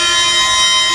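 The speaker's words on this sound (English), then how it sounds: "we're going to turn on their headlights on and sound the horn" A loud, sustained video-game Eurostar train horn blares continuously, a steady droning tone with no pause.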